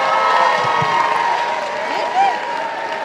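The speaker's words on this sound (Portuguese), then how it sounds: "Eu queria uma salva de palmas, mas bem grande, para o Reginaldo." A crowd at a youth gathering in Heliópolis, São Paulo, claps and cheers loudly for a young man named Reginaldo, with whoops and shouting voices mixed into the sustained applause.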